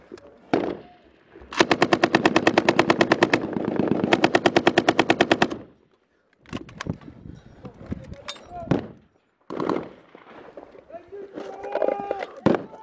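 Bursts of M240 and M249 machine gun fire during a firefight, two long rapid rattling volleys close and loud, followed by scattered shots and shouting voices.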